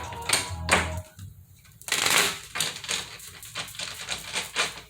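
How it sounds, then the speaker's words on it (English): Rapid papery riffling and flicking of Egyptian Tarot cards in a few bursts, with short pauses between shuffles. "I'm going to get this deck here a couple of shuffles."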